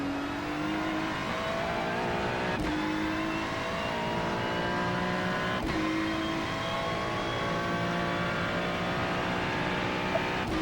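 Ferrari race car at Mount Panorama in iRacing, its engine droning steadily with rising and falling revs and two sharp gear shifts, loud and continuous with no talk.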